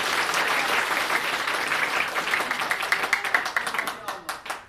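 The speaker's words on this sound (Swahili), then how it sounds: "Haya basi, piga makofi tena kwake" Applause for the Zanzibar president from a political rally crowd, a dense wash of many hands clapping that starts steady and loud, then thins into scattered individual claps and fades out.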